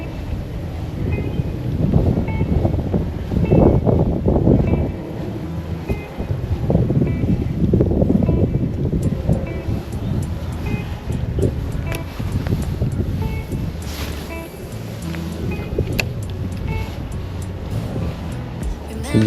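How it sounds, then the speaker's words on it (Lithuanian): Wind buffets the microphone on a lake during a fishing trip, a rough, continuous low rumble with gusts. Faint lapping water is mixed in, and the wind stays loud throughout. "Vėjas po truputį kyla"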